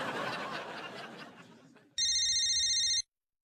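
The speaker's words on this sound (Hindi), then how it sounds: "फोन" An electronic telephone ring sounds loudly for about a second, a steady tonal trill, right after a stretch of close talking and laughter.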